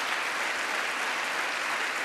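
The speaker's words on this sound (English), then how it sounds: "What are you clapping for" Applause from the chamber during the 2024 State of the Union address, a uniform wash of clapping from a large audience, heard at moderate level with no speech.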